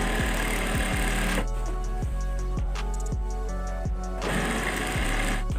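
A sewing machine sews a half-inch seam in curtain fabric, running loud and close with a rhythmic mechanical thump, easing to a slower pulsing pace midway before speeding back up to a full whir.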